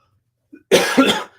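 Two close coughs from a man with a tickle in his throat, loud and near, each a short burst, heard alone in a quiet room.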